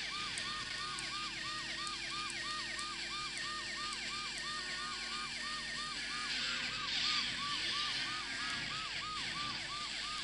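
Ambulance siren in the driving game Driver 2, a loud, continuous wailing tone cycling rapidly and evenly over a steady vehicle hum, with no talk.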